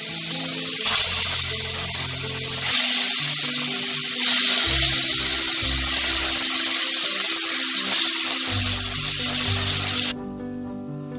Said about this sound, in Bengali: এভাবে আমি বাদবাকি মাছগুলোকে ভেজে নেব।